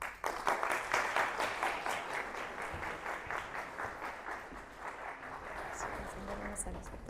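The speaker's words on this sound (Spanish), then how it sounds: "a nuestro expositor, Pablo Ferrer, a quien recibimos con un fuertísimo aplauso." An audience breaks into loud applause that gradually thins and fades, with some voices audible under the clapping.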